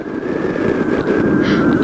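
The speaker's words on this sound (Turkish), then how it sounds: "Rüzgar batıdan esiyor galiba. Bakıyorum. Evet. Hem de bayağı esiyor." Strong wind roars steadily against the microphone during a gliding flight over İnönü, a dense continuous rush with a thin steady whistling tone above it, loud and close throughout.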